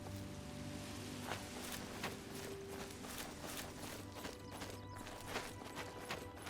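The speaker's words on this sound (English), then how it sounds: "Hey, horse." A horse's hooves clip-clop in the video game Elder Scrolls IV: Oblivion, a steady walking rhythm of soft thuds over a low droning in-game background, faint and without talk.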